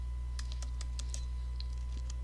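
Keys on a computer keyboard are tapped in a quick uneven run of crisp clicks, about a dozen strokes over a steady low hum, with no voices.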